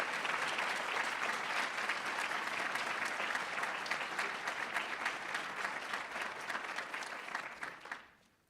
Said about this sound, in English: Please, let's give them a big hand of applause.